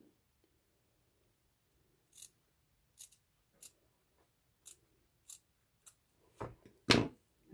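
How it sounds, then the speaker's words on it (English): Scissors trim off material for a handmade holiday household book: a sparse series of crisp, close snips with quiet pauses between them, growing quicker and louder toward the end, with no talking. "So let's just trim this off a little bit."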